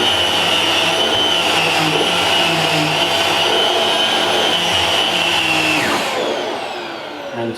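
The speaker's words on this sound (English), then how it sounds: "it is possible, as I say, to clean the stairs with the power nozzle" A Vax Air Revolve Pet vacuum cleaner running with its power nozzle on stairs, a loud, steady motor whine with a high tonal drone, close, easing slightly toward the end.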